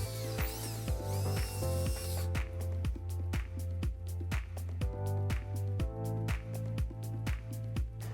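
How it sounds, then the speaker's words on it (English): Die grinder cutting off a welded stud during a 2021 BMW X3 trailer hitch installation, then a drill boring out the hole; a whine followed by rapid rhythmic mechanical clicking and grinding bursts, close and steady. "we found it was easiest to cut it off with a die grinder and then drill out the hole"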